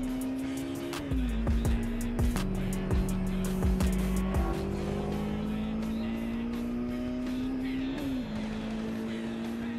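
A loud supercharged Honda S2000 engine revs and whines continuously, pitch rising and falling, with tires squealing in bursts as it drifts nearby.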